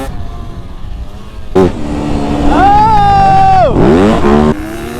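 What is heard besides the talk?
dirt bikes revving while riding jumps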